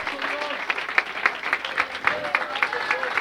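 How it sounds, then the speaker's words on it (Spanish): Church congregation clapping during a Spanish-language service in Manhattan, a steady dense round of applause with a few voices calling out over it, fairly close and loud. "Quiere darle aplausos a Él"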